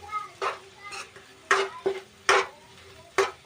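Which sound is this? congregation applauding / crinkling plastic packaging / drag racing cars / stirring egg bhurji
stirring egg bhurji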